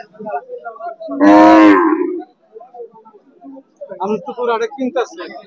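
Crossbred cattle at a livestock market, one giving a single loud moo, with lower cattle sounds and market chatter around it.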